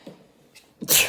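One sharp sneeze bursts out nearby at the end, after a faint intake of breath.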